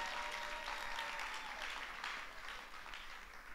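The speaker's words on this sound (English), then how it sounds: "let's clap for them" Conference audience applause at a women's event, a faint, distant wash of clapping that tapers off slightly toward the end.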